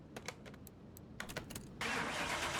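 A classic copper pickup truck hot rod cranks over in several short starter bursts, then catches and fires into a loud, steady grumbling run that continues to the end.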